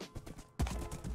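Horse hooves clip-clop in Minecraft with a few soft, close steps and one heavier thud partway through.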